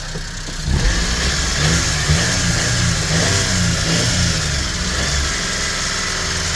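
A 1999 Mitsubishi MiniCab 4x4 truck engine runs steadily at idle with a faint rapid valve ticking under the rumble, close by and continuous.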